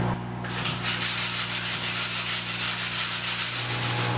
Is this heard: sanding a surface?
yes